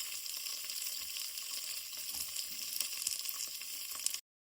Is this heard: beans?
yes